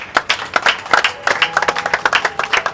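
Lively clapping from a gathered crowd at a foundation celebration, close and loud with irregular overlapping claps and a few faint voices underneath.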